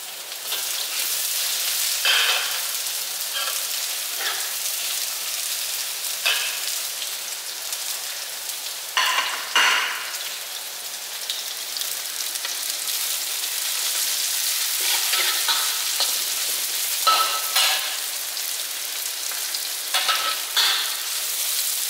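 Five cloves of garlic and red onion fry in a pan, a continuous crackling sizzle like rain with scattered louder pops, close and steady.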